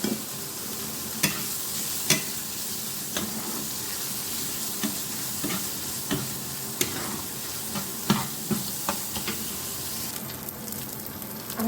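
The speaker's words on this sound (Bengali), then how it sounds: "দিয়ে ভালো করে ভেজে নেব।" Fish pieces frying in a pan, with a continuous hissing sizzle, periodic sharp clacks and scrapes of a spatula turning them, close and clear, and no talking.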